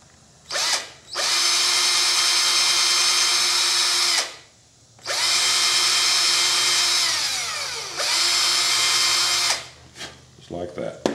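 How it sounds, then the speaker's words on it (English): A power drill whines loudly in three bursts boring small holes in wood, each winding up and running several seconds before stopping, with short quiet gaps between. "I'm going to drill me a couple little holes right through in the X's."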